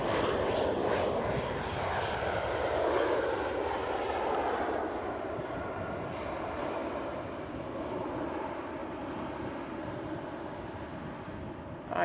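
Propeller airliner at Manchester Airport, a steady, loud droning roar of engines that holds evenly throughout at fairly close range, with a broad rumble and faint tonal hum, no talk over it.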